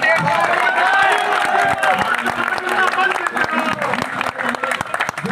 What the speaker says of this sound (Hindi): हम जोरदार तालियों से धांसू सर जी का स्वागत करते हैं।